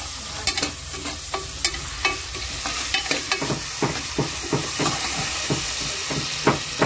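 Onions fry with salt in a pan for mutton curry while a spoon stirs them: a steady close sizzle punctuated by repeated scraping clicks of the stirring, with no talking.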